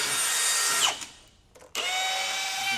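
Power drill boring into a wooden whiskey barrel, a close, whining motor run that slows and dips before a short pause, then restarts at full speed and holds steady.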